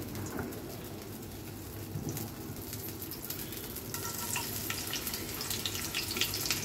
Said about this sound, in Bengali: তো ঠিক আছে, এটা ভাজি করে নিই।